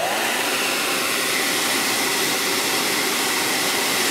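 Hot air blower heating a nylon fuel line on a 1980s Ford truck, a steady, close, rushing hiss of airflow that continues unbroken, with no talk.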